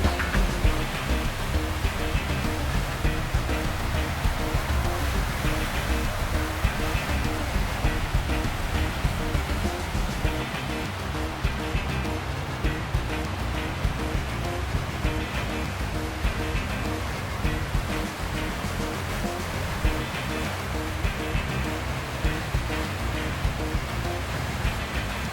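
Maligne River rushing through the deep, narrow Maligne Canyon, a loud, steady roar of turbulent whitewater that holds constant and close throughout with no other sounds.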